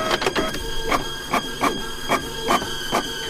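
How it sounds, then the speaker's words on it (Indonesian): A printer in an office during late overtime work switches itself on and feeds out a single sheet, giving a steady mechanical whir broken by repeated rhythmic clacks of the paper feed, close and fairly loud with no talk. "printer tersebut nyala sendiri dan tiba-tiba keluar satu"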